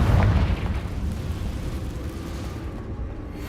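A Confringo explosion spell in Hogwarts Legacy opens with a heavy, close boom, then trails off into a steady low rumble that slowly fades.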